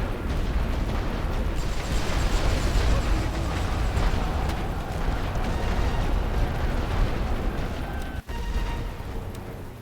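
Continuous rumbling artillery bombardment from The Great War: Western Front, a dense wall of overlapping explosions and booms sustained throughout, with one sharp dip near the end.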